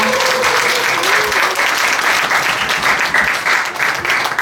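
An audience at a book launch breaks into loud, sustained applause that fills the whole stretch, dense and steady clapping with a faint murmur of the crowd.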